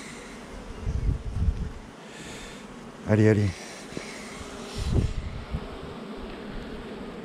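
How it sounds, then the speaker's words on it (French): Honeybees buzz briefly close by at an open hive during a French beekeeper's inspection of a hybrid colony with royal cells, a short loud burst amid handling noise, with someone speaking. "Attention petite abeille, allez bouge."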